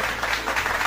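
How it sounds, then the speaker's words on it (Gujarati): Children applaud for Lalaji, a brief, dense, steady patter of many hands clapping together at moderate loudness. "બાળકો, વગાડો લાલાજી માટે જોરદાર તાળીઓ."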